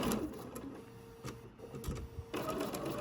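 Sewing machine stitching quilt blocks with a scant quarter-inch seam, a soft, steady mechanical whir close by and fairly quiet throughout.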